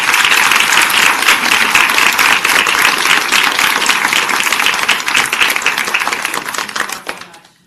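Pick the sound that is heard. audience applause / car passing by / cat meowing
audience applause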